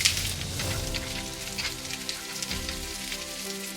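Cauliflower sautéing in a frying pan, a continuous crackling sizzle with dense popping spatter, steady and close, no talking.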